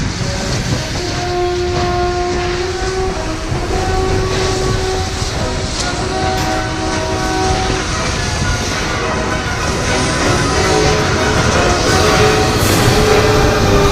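A train rumbles steadily nearby with a continuous broadband roar and faint tonal squeals from wheels or brakes, moving slowly and loudly throughout without speech.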